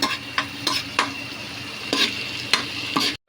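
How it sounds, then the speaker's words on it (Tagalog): Garlic and ginger fry in a hot pan with a steady sizzle, while a spoon stirs them, making several sharp scraping strikes spaced roughly half a second apart, close and clear, with no voices. "Lagyan natin ang ating bawang, ang ating luya. So, konting halo."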